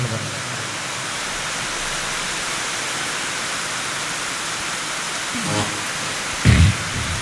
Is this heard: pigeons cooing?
no